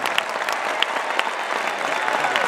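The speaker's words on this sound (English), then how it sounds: "please give every member of our crew a huge round of applause" A concert crowd at a show claps and cheers steadily for the road crew, a dense, loud wash of applause with no break.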